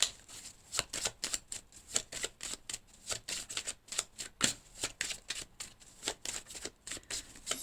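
Oracle cards for a reading are shuffled by hand in quick, rhythmic riffling bursts, close and crisp, with no talking over them.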